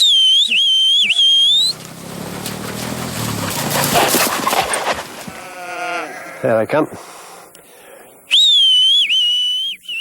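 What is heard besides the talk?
shepherd whistling to call sheepdogs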